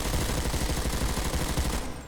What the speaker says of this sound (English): So let's just hip fire without bursting and without recoil control